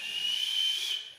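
A single sustained mouth whistle at one steady pitch, held for about a second and then fading out, near and clear with no talking.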